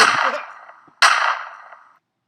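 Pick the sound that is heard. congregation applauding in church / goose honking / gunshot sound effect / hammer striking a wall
gunshot sound effect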